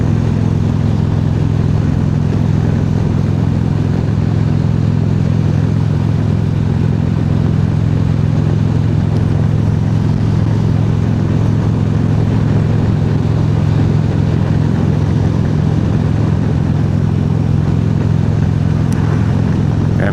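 A motorcycle engine drones steadily while riding on a warm day between Elkton and Volga, South Dakota, a constant low rumble blended with wind noise and no break in its level.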